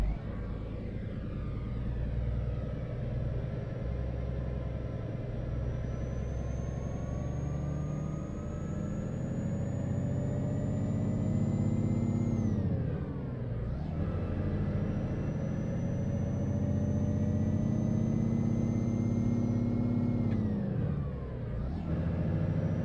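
A steady Volvo FH16 540 truck engine drone in the Euro Truck Simulator 2 game runs throughout with shifting pitch, briefly dropping twice as if changing gear, with a high whine above it.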